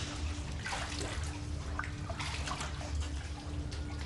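Water flows steadily in an underground river inside a dark cave, a continuous, faint rushing wash with no voices.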